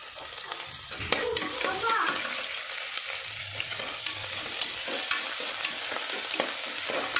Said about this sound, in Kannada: ಅದಕ್ಕೆ ನಾವು ಈ ಪೇಸ್ಟ್ ಮಾಡಿರುವಂಥ ಸ್ವಲ್ಪ ಜಿಂಜರ್ ಗಾರ್ಲಿಕ್ ಪೇಸ್ಟ್ನ ಹಾಕೋಣ.